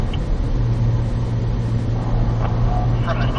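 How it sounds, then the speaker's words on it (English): A car on the North Track at Spring Mountain Motorsports Ranch accelerates uphill through the course, with a steady, loud engine drone and road rumble throughout and some faint background sound. "Accelerating up the hill here."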